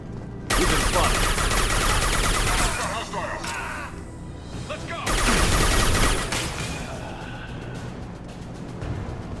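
Gunfire from Blue Suns mercenaries and Vorcha in Mass Effect 2, heavy automatic bursts in two loud waves with a quieter stretch between, mixed with ambient battle noise and some voices.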